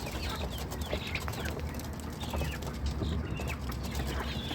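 Ducks and chickens on a farm cluck and chatter in a busy, continuous flock, with scattered calls and rustling close by and no talking.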